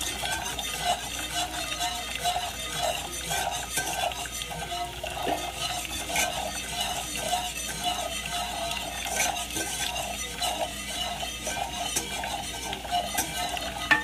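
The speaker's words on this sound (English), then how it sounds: "Whisking boiling water" A whisk stirring a pot of boiling water on a stovetop, a steady rapid scraping and clinking that continues for the whole stretch without talk.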